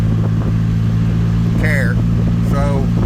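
A cheap truck engine runs with a steady, loud low drone that holds throughout, while a voice speaks briefly over it near the end.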